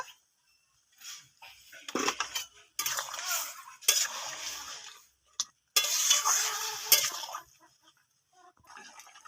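Prawns tipped into a pan and stirred for a wedding-style jackfruit prawn curry, with scattered clinks and scrapes of a metal spoon against the pan and sizzling bursts between short quiet pauses.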